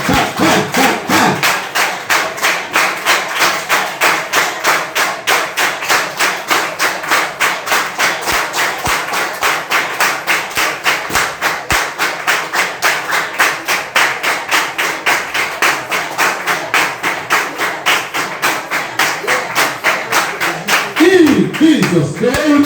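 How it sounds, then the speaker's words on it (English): Rapid steady hand clapping during a loud prayer session, dozens of sharp rhythmic claps close by, with voices rising near the end. "Say, as I'm clapping my hand."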